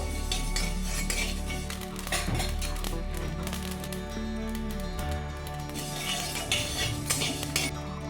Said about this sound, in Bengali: সেই কালো সর্ষেটা এটাকে নেড়ে চেড়ে ভেজে নেব